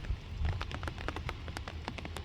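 Light rain patters outdoors near a road during a downpour spell, with fine scattered drops and low rumbling underneath; no one speaks.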